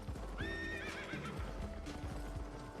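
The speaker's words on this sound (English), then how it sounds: "Armored horse." An armored horse in the Albion Online video game gives a clear whinny over steady hoofbeats, quiet and alone in the mix.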